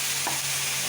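Chopped onion sizzles in a pan of oil alongside crushed ginger and garlic, a steady broadband frying hiss with a brief stir partway through, close and constant, no voices.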